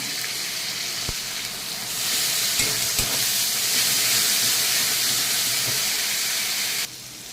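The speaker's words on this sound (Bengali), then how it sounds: "আমার টমেটো আর আদা বাটাটা ভাজা হয়ে গেছে" Chopped tomato and ginger paste frying in oil, a loud steady sizzle and hiss close by, a few sharp clicks of a utensil near the start, the sizzle swelling midway and then dropping abruptly near the end.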